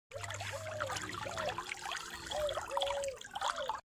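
Cold water splashes and trickles as a face is washed outdoors, with uneven bursts of running and dripping water and a few faint tonal chirps in the background.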